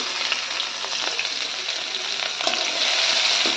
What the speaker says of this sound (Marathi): जिरं मोहरी तटलं की लगेच मिरच्या टाकते